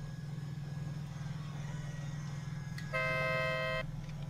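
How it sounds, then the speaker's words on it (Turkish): A car horn sounds in Forza Horizon 5 from a modified Ferrari Portofino, one sustained honk of just under a second rising over a steady low engine rumble, with no talk. "Oğlum korna tuşu değişmiş ya lan."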